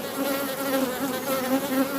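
A crowded honey bee colony hums steadily at the hive, a dense, continuous buzz of many bees close by with no voices over it.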